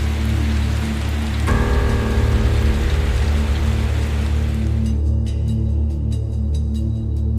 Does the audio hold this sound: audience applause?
no